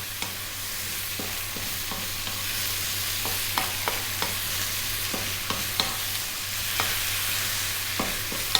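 Sauce stirred in a pan over high heat, a constant sizzling hiss under a low steady hum, with repeated light taps and scrapes of a spoon at an uneven pace, close by and without voices.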